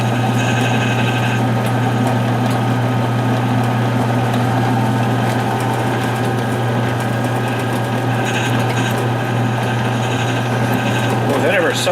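A powered tool sharpener runs continuously with a steady, high-pitched motor hum and faint grinding clicks, loud and close, with intermittent tapping over the drone.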